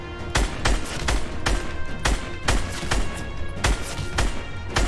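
Gunfire in the Fortnite video game: a rapid series of sharp, loud shots in an even rhythm, about a dozen bursts over five seconds.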